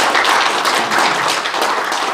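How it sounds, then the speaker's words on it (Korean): An audience at an extraordinary general meeting of retired generals in Korea applauds honorary members, with dense, steady clapping from many hands filling the hall at close range and no talk over it. "여기에 명예회원 오신 분들을 위해서 우리 박수 한번 또 쳐주시기 바랍니다"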